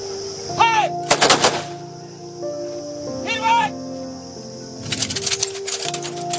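Ceremonial police gun salute at a state funeral in Warora, Maharashtra: sharp volleys of gunfire ring out in several bursts, loud and close, amid a continuous droning tone and background crowd sounds.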